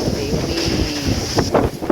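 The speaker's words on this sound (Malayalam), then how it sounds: "ഭയങ്കര കാറ്റു കാറ്റ് പേടിയാവുന്നു" Strong gusting wind roars across the microphone outdoors, a steady rushing buffet with louder bursts toward the end, while people talk underneath.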